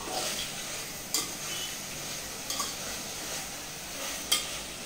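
Chicken pieces with turmeric and salt frying in a pan while being stirred, giving a steady soft sizzle with occasional sharp scrapes of the spoon, close and alone without talk.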